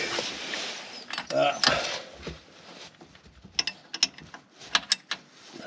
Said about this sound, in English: what I'm going to do first is just crack off that hydraulic line there